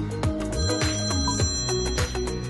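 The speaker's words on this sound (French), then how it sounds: "On vient à peine de débarquer et le téléphone sonne déjà." A telephone rings continuously with repeated bell-like trills, loud and close, filling the room with no talking over it.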